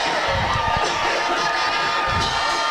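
A crowd cheers and shouts at a Newport Greyhounds high school football game against the Rivercrest Colts, a loud, continuous roar of voices with higher whoops rising from the stands.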